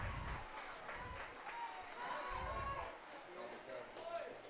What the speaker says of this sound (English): And you hear how the crowd has responded.